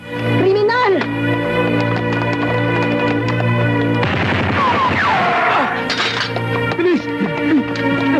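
Gunfire in a Tagalog comedy movie shootout: loud bursts of shots and clattering impacts mixed with a busy music score, with people shouting throughout.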